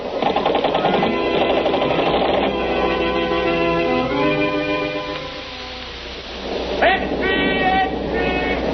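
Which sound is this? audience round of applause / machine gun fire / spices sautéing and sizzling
machine gun fire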